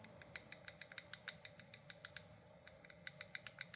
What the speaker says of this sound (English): This little flapping door right here, it comes standard on all AirPods, but this one, particularly the hinge, is a little loose.